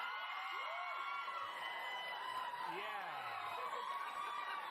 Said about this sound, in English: Just listen to how the crowd reacted.